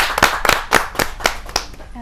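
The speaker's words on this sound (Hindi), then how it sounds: "जोरदार तालियों से आवाज दीजिए" Hands clapping in a sharp, evenly spaced beat, about eight firm claps in two seconds, as an audience welcomes a poet at a Hindi kavi sammelan poetry gathering.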